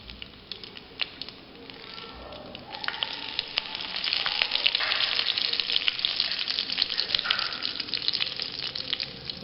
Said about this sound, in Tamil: கருவேப்பிலை கொஞ்சம் இது கூட சேர்த்து வதக்கிக்கலாம்.